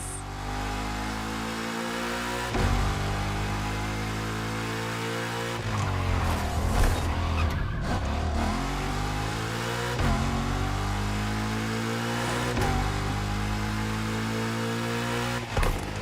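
A Nissan 370Z tuned to 850 hp drifts in The Crew Motorfest, its engine a loud, sustained drone that swells and dips with rev changes throughout, with no voices.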